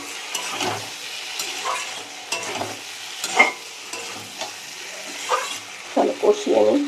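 Spice paste of ginger and chili cooking down with tomatoes in a pan, soft intermittent sizzling and spatula scraping in short bursts, fairly quiet and close.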